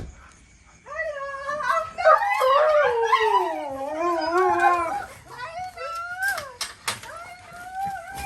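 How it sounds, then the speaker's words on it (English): Pet dogs at home howling and whimpering on their owners' return, a close, wavering chorus of rising and falling howls that breaks into short whines and yips toward the end. "Doggies, doggy."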